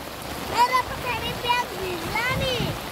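A swollen stream rushes in a steady broadband roar after heavy monsoon rain in Nepal, heard close by while children talk and call out over it.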